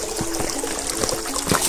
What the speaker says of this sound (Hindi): बहता पानी है